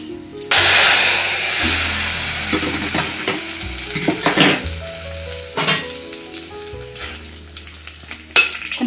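Loud sizzle of hot oil tempering with dried red chillies hitting a Kerala-style curry of jackfruit seeds, mango and dried prawns, a sharp burst that settles into steady crackling frying with clinks of a spoon throughout.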